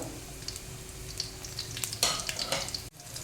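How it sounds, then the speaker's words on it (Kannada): Cumin and mustard seeds frying in hot oil, with coriander seeds also in the pan, for a wedding-style tomato saaru: a steady close sizzle dotted with sharp crackles and pops, no voices. "ಆಮೇಲೆ ಒಂದು ಚಮಚ ಜೀರಿಗೆ ಆಮೇಲೆ ಒಂದು ಅರ್ಧ ಚಮಚ ಸಾಸಿವೆ ಹಾಕ್ಕೊಂಡು ಚೆನ್ನಾಗಿ ಫ್ರೈ ಮಾಡಬೇಕು"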